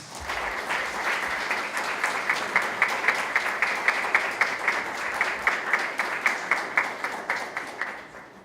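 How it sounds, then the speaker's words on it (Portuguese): Church congregation applauding during a Portuguese-language sermon, a full sustained round of clapping that settles into a distinct rhythmic unison beat, many hands close and fairly loud, with no speech. "Vamos dar uma salva de palmas aos Pais Celestiais?"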